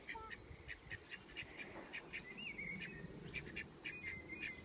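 Three ducks wandering in a yard give faint, repeated short quacks and calls at a distance over a low outdoor background hum, with no one speaking.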